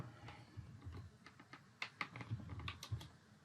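A password being typed on a computer keyboard while setting up Windows 10: a quick irregular run of close, light key clicks with a few sharper taps, no voices.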